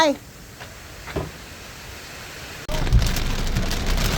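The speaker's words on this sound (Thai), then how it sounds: "ฝนตกพี่น้อง ฝนตก" Steady rain hisses throughout in an orchard in the evening, suddenly swelling louder partway through, with a brief voice heard at the start.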